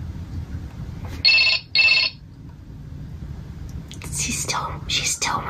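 Two short electronic ring bursts from a small toy phone, close by, followed by soft voices and faint rustling.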